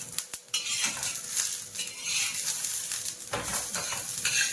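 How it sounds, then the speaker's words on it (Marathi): Coriander leaves and cumin seeds roast in a hot pan with garlic cloves while a spoon stirs them. Light sizzling runs under repeated scraping and clinking of the utensil against the pan, close and moderately quiet. "कोथिंबीर पण भाजून घ्यायची आहे."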